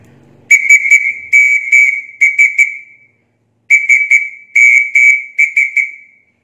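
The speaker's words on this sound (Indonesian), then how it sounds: "ketika nada dering SMS-nya pasti pernah mendengar yang bunyinya seperti ini" A Nokia text-message tone beeps out its short-short-short, long-long, short-short-short Morse pattern, spelling SMS, twice, loud and clear, with a pause between the two rounds.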